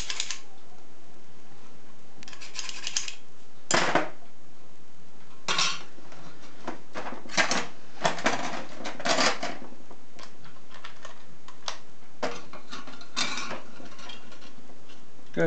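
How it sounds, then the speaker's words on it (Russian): Deburring a freshly cut-out metal resonator part for an antenna, producing scattered scraping and clinking bursts of filing at an irregular rhythm, close and moderately loud, with no talking. "Снимаю заусенец"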